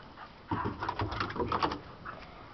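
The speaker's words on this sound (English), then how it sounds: "That's a very loving and excited dog." An excited, loving neighbour's dog whimpers and yelps in a quick series of high, close cries over about two seconds, following a brief quiet start.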